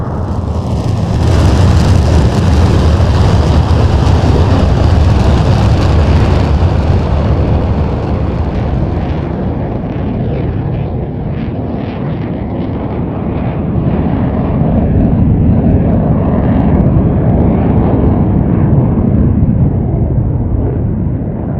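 A single F-15C jet in the DCS flight simulator rumbles loudly and steadily throughout, with broad roaring engine noise that slowly shifts as the aircraft passes, around Nellis AFB.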